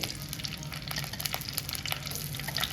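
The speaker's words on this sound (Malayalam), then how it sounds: "എണ്ണ ചൂടായിരിക്കുകയാണ് അതിലേക്ക് ഞാൻ ചെറിയ ഉള്ളി ഒരു ഏകദേശം പത്തെണ്ണോളം ഉണ്ട് അത് അതിനകത്തേക്ക് ഇട്ടു" About ten small onions frying in hot oil for a chilli fish curry give a steady, fairly quiet sizzle with scattered sharp crackles and pops throughout, no voices.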